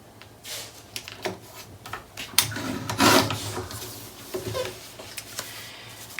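Paper sheets for a mini album trimmed together on a paper trimmer, a series of close rasping slices and scrapes with a few louder rubbing swipes, no voice.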